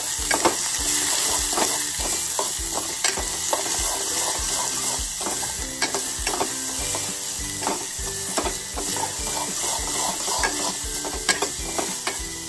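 Chili and onion frying and sizzling in hot oil for dal, with steady close crackle and the repeated scrape of a ladle stirring the pan, no voices.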